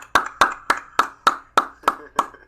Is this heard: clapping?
yes